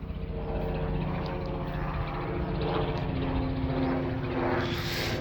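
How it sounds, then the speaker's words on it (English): Helicopter passing over an allotment garden with trees, a loud steady engine and rotor drone filling the whole stretch without any talk. "Cue helicopter."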